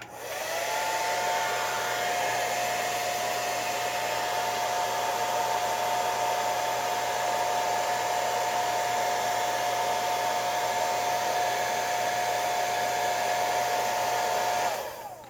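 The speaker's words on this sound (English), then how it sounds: "Oh, blow dryer. The blow dryer of doom." A hair dryer blows continuously at close range, a steady loud whoosh with a thin whine, running for about fourteen seconds before cutting off.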